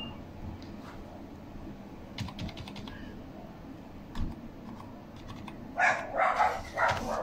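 Someone types on a computer keyboard: soft, scattered clicks with a few denser bursts of keystrokes toward the end, faint in a quiet room with no talking.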